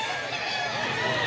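A gamefowl rooster crows at a crowded rooster market in Mantalungon, Cebu, its call blended into dense, steady background crowd noise with people talking.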